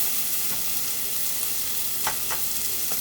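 Onions sweat in a pan on the stove, giving a steady close sizzle and frying hiss with a few brief stirring scrapes near the end.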